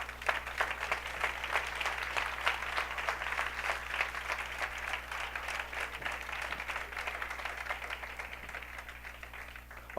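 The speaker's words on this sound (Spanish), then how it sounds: "Dele un aplauso a Él." Church congregation applause fills a large worship hall: a steady, diffuse wash of many hands clapping at a distance over a low hum, with no speech.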